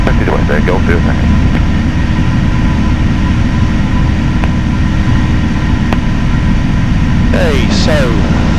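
A Piper PA28 light aircraft taxiing at Blackpool, its engine a loud, constant droning rumble filling the whole stretch, with brief radio chatter and clicks near the start and end.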